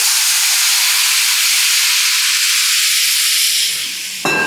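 Loud, continuous steam-like sizzling hisses up close as hot water is poured into a pan of rice with coconut and jaggery, fading slightly before a sharp clunk at the end.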